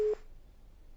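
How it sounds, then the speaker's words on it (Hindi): A telephone busy tone sounds briefly at the start of a live TV call-in show after the caller's line drops, a single short tone cut off within about a fifth of a second, followed by faint line hiss. "चलिए संपर्क टूट गया"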